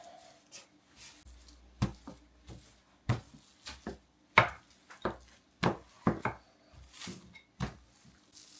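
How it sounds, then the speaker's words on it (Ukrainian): Intermittent soft thuds and rolling knocks of a rolling pin working dough on a board, irregular taps spaced through quiet moments. "качалкою розкачаю тонесенько"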